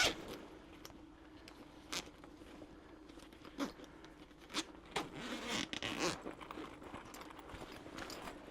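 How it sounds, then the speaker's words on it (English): A backpack's main zipper is drawn open in a few quick, rasping pulls close by, with soft fabric rustles in between. "And then you have your main zipper."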